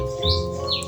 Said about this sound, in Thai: ได้ยินเสียงนกร้องปะนกมันมาเกาะต้นไม้ข้างๆบ้านผมนะทุกคน